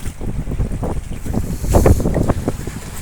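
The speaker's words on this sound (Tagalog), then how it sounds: "Medyo malakas dito yung yung hangin ngayon sa may laot" Strong wind buffets the microphone out on the open sea from a small fishing boat, with water sloshing and waves breaking alongside in a steady rough roar that swells louder midway.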